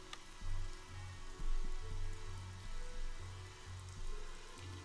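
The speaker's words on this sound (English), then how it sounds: "It's raining." Steady rain hisses and patters throughout a scene in the video game Evoland 2, a soft continuous wash with a low droning tone pulsing beneath it.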